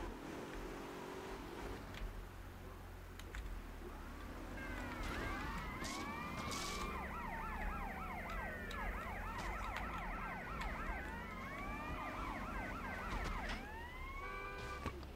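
A wailing police car siren in Grand Theft Auto Vice City sweeps up and down repeatedly, fairly faint and steady over a low electronic hum.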